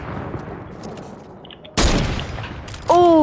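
Gunfire in a video game: a sharp burst of shots cracks out after a quiet stretch, followed by a second loud volley near the end.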